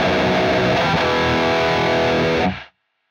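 A heavily distorted electric guitar on the bridge pickup, run through the Neural DSP Archetype Petrucci plugin, rings out as one sustained, loud chord for about two and a half seconds before being cut off abruptly into silence.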